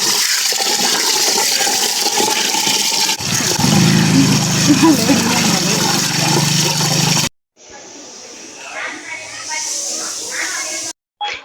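Rice for tambittu is washed in water for a Chowdeshwari festival offering, with loud sloshing and rushing water that stops abruptly, then softer splashing. People talk over it.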